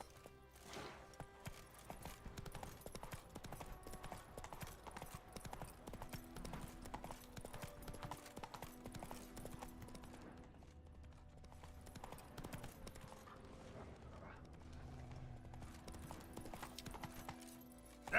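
Roach the horse gallops in The Witcher 3, rapid hoofbeats clattering steadily and fairly close, easing briefly midway before picking up again, with faint game ambience and occasional voice underneath.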